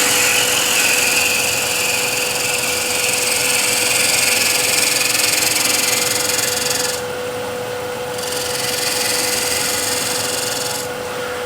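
A bowl gouge shear-scrapes a spinning wooden disc flower vase on a lathe, giving a continuous loud rasping hiss with a steady motor hum beneath, easing briefly twice, with no voices.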